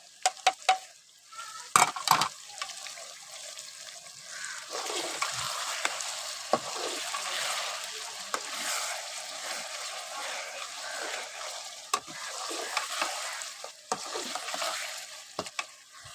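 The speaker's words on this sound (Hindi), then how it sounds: "अभी देखिए जी चिकन जो है ना मेरा गोल्डन ब्राउन होना शुरू हो गया।" Chicken pieces frying for biryani in hot oil, a steady broadband sizzle running throughout with occasional spoon or pan knocks, close and moderately loud, no talking.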